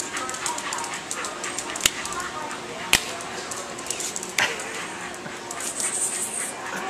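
A hyperventilating dog in a pet store waiting area whimpers and yips, with a few sharp sudden sounds standing out over busy room noise and nearby talk.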